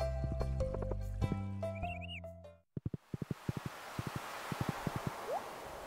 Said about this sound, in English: Look at my horse.